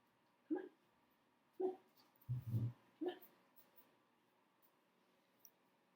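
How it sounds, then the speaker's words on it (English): A dog gives several short, muffled yelps and whimpers spaced about a second apart, with one lower, longer grumbling bark in the middle, indoors and faint against a quiet background. "the dogs are acting crazy now"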